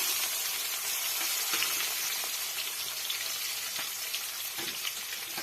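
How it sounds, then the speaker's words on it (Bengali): Four medium onions, finely chopped, fry in hot oil for a mutton curry, giving a loud, steady, close sizzle with crackling pops and faint stirring throughout. "সেগুলোকে তেলের ওপরে দিয়ে ভালোভাবে এবার নাড়িয়ে চাড়িয়ে ভাজবো।"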